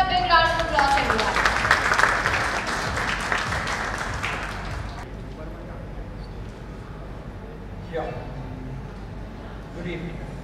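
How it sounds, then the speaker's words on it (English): An audience at a panel discussion on programmatic TV advertising gives a round of applause for the moderator, dense clapping for about five seconds before fading to room tone with faint voices. "Give this gentleman a big round of applause, everyone."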